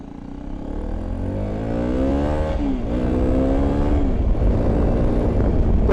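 A Hero Xpulse 210 adventure motorcycle engine revs and accelerates up close, its pitch rising and dipping as it climbs, loud and continuous throughout.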